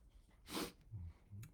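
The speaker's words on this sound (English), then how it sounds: "I'm also going to sneeze." A single sneeze bursts out, followed by a couple of short, low sniffs or throat sounds in a quiet room.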